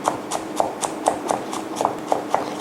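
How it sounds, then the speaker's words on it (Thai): Coarse chopping of garlic cloves with a knife on a board: about ten crisp, evenly spaced taps in a steady rhythm, close and clear. "สับพอหยาบๆนะคะ"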